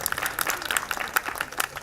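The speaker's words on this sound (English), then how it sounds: "I guess they deserve yet another round of applause for their performance" Audience applause after a cultural music performance at a university conference on China studies, a dense patter of overlapping claps at moderate level with no talk over it.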